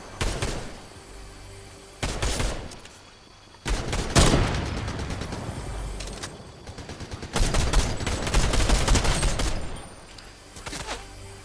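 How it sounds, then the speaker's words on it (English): A video game firefight with bursts of rapid gunfire in several loud clusters, some close and some farther off, separated by short lulls. "because I hear shots"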